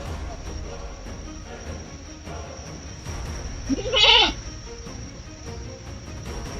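A single loud goat bleat rings out near the middle, close and wavering, over quiet outdoor ambience with crickets faintly in the background.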